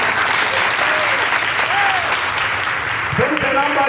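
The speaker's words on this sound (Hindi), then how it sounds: "ताली थोड़ा जोर से।" Audience applause at a Chhattisgarhi comedy stage show, a steady dense wash of clapping that holds at full strength for about four seconds with a few voices mixed in near the end.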